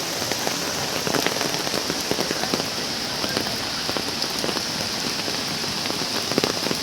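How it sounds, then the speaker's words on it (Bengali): Heavy rain pours steadily over an open cattle market field in Mymensingh where sacrificial animals stand, a dense constant hiss with scattered close drop impacts and no voices. "ময়মনসিংহ শহরে প্রবল বৃষ্টি হচ্ছে"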